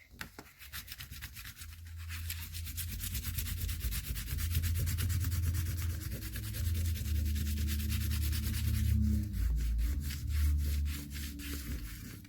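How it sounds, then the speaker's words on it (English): A crayon rubs steadily over paper laid on a leaf, making a continuous close scratchy, rasping scrub with a fast back-and-forth texture that keeps on for the whole stretch. "So I'm going to go ahead and then begin to rub that leaf."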